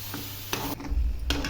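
Red amaranth leaves being stirred in a frying pan give brief scraping and rustling strokes over a soft sizzle, a few close stirring sounds in quick succession with no voice.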